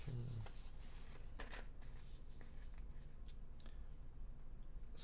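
A sheet of paper is handled on a desk, giving faint, brief rustles and crinkles against a quiet room, with no talking.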